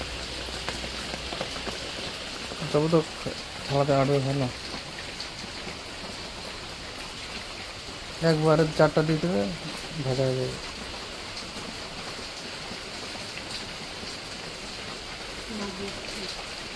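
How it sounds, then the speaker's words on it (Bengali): Steady heavy rain falls outside, hissing continuously over muddy, waterlogged ground while people talk nearby over the wash of the downpour. "ওদিকে কত দেখছো বৃষ্টি আর থামে না"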